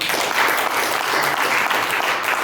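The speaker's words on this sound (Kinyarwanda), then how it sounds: "Nimwongere kumwomera amashyi menshi." Sustained applause from a wedding audience, dense and steady for the full stretch at the celebration for poet Bucece Dominique and Tuyishimire Denise.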